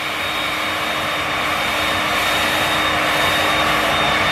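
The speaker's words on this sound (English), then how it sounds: "what you're going to do is blow dry back." A hair dryer blows hair back in a steady, loud, close roar that holds a constant pitch for the whole stretch, with no voices over it.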